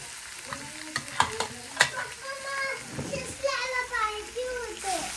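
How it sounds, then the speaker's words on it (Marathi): Leftover carrot halwa from the fridge reheating in a black kadhai, with a soft sizzle and scraping spoon strokes, a few sharp clinks early on, and a voice and adult talk over the cooking. "गाजरचा हलवा मला गरम तर करू दे बाळा"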